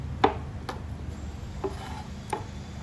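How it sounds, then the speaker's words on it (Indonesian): Garlic cloves being smashed flat with a knife on a board while cooking, four sharp, separate knocks spaced unevenly over a low background hum, close and fairly quiet, with no talk. "ini bawang putihnya saya geprek gini aja"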